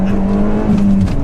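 Stage 2 Ford Fiesta ST engine and exhaust holding a steady, loud, throaty drone with a sustained low hum, no voices over it.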